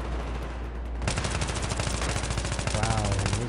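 Rapid gunfire from the video game Battlefield 3 bursts in after a second of quiet, a loud dense stream of automatic shots and echoing impacts continuing to the end.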